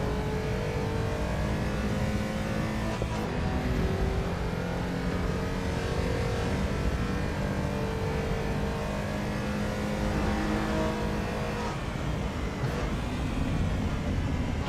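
Race car engine in Assetto Corsa Evo, running steadily loud throughout with harmonic whine and shifting revs as it downshifts through the gears, no talking over it.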